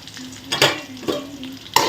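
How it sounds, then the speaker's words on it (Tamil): Eggplant pieces sautéing in oil in a pan, a low sizzle under a few brisk scraping stirs, close and moderately quiet. "இப்போ இதில் வந்து நல்லா வதங்கட்டும்"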